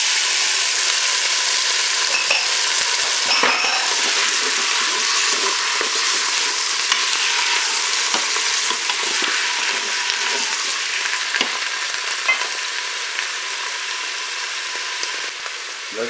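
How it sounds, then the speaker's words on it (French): Button mushrooms frying in a Cookeo multicooker give a steady, loud bright sizzle throughout, with occasional light scraping and stirring clicks and no talking. "Je vais maintenant ajouter mes champignons de Paris."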